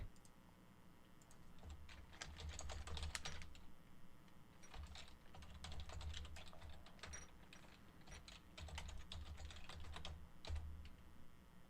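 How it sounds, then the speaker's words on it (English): Rapid typing on a computer keyboard: dense, uneven runs of clattering key clicks over a low steady hum, close and moderately loud, with no voices. "Oh, so much typing."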